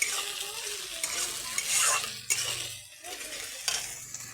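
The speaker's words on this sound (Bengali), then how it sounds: "এগুলা দিয়ে কিন্তু তেলের মধ্যে ভেজে নিচ্ছি" Vegetables, including new potatoes, lightly frying in oil in a pan, a steady hiss and sizzle with scraping stirs and occasional clinks of a utensil against the pan, close and alone.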